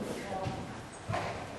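Horse hooves clop at a walk in an indoor riding clinic, two soft thuds audible beneath a woman's continuous instructional speech.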